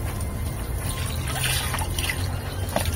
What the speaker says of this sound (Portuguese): É uma água de fonte.